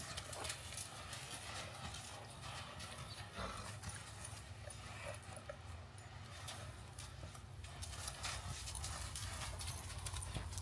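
Steady clip-clop of a colt's hooves walking on a hard surface, continuous and fairly close, over a constant low rumble of background noise.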